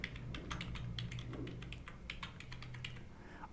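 Rapid keystrokes on a computer keyboard as an Aadhaar number is entered into an online form, a steady run of close, crisp clicks over a low background hum.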